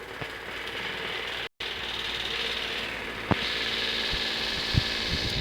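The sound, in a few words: noisy electric fan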